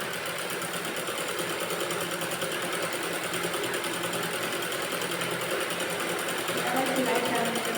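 Sewing machine stitching a net fabric kurti neck runs as a steady, continuous whir close by, with no pauses across the stretch.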